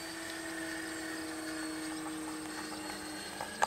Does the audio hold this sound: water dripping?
no